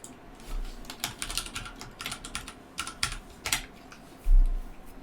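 Quick bursts of typing on a computer keyboard while naming a UI panel in a Unity Sudoku project, the keys clicking in an uneven rhythm up close, with one heavier thump near the end.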